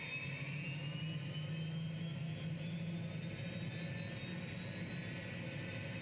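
A Shrike 530F aircraft engine idles on the ground in Microsoft Flight Simulator, a steady close turbine whine with a low droning rumble that holds level throughout, no voices over it.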